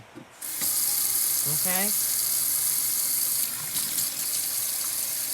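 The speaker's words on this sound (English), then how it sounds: "our next step is to just take some warm water and rinse" Warm tap water runs steadily as hands are rinsed under it, a loud continuous gush that starts abruptly and carries on with slight changes, while a person speaks briefly over it.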